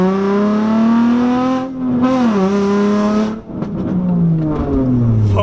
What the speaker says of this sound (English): if you guys hear that noise, he is sitting on a welded diff